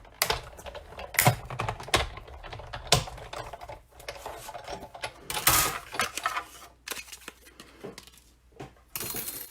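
A die-cutting machine runs a small square frame die through cardstock for a handmade card, giving an irregular string of mechanical clatters and sharp clicks with brief loud bursts, close and without voices.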